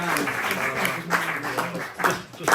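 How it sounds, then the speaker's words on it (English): A round of applause from the audience at a conversation event at the Seamus Ennis Centre in Naul, a continuous patter of clapping hands with some crowd noise and murmuring voices mixed in, moderately loud. "give a big round of applause to Niall McGuirk"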